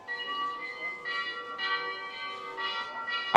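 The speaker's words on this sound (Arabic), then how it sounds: "رنت ساعة الكنيسة" A church clock bell in a Dutch town, 's-Hertogenbosch, chimes in repeated ringing strikes whose tones hang and overlap, heard from a short distance in the open air.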